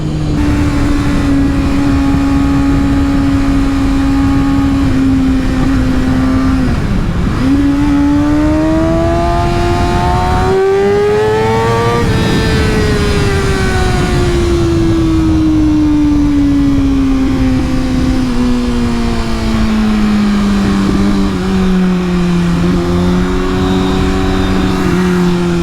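A 2019 Kawasaki ZX-6R with a Yoshimura Alpha-T exhaust accelerates hard, its loud, steady engine note rising through the gears with quick-shifter changes and then easing down, recorded close and continuous with no talk.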